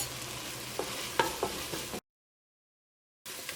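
Turmeric powder heats in oil in a hot pan for a chicken curry, a soft steady sizzle with a few light utensil taps, briefly cut to silence before the frying resumes.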